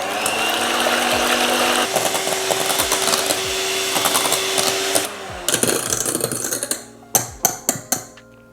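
An electric mixer whips egg whites with fleur de sel for chocolate mousse, a motor whine holding steady for a few seconds amid rattling beaters, then stopping before a series of sharp knocks and clicks.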